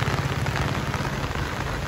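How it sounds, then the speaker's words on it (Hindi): Heavy monsoon rain pouring steadily at Bhimtal in Uttarakhand near a dam, a loud dense hiss of drops hitting surfaces, constant and close throughout. "अभी भी बारिश बहुत घमाघम हो रही है यहाँ पे"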